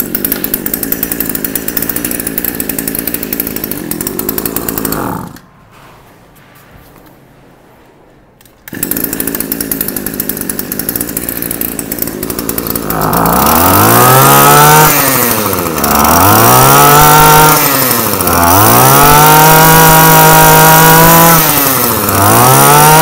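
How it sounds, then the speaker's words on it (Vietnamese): A Japanese two-stroke brush cutter, a K1 unit, gives a test run: a buzzing idle, a brief drop to near silence, then loud, close, repeated rising-and-falling throttle revs with a sharp, raspy whine. "Em sẽ test nổ các bác nghe thử con này nhá"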